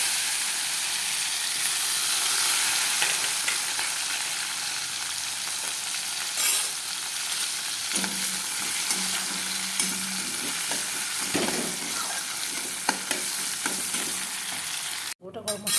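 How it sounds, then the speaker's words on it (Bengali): Chopped onions and garam masala frying for chicken pasta in a home kitchen: a steady, close sizzle running throughout with occasional stirring scrapes, no voices. "আমি এখন একটু পেঁয়াজটা দিয়ে দিব, কুচানো পেঁয়াজটা দিয়ে দিব।"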